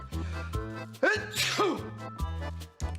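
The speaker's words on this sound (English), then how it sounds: "the sneeze went quite literally with flying colors" A forceful sneeze bursts out partway through, loud and close, with musical tones playing underneath.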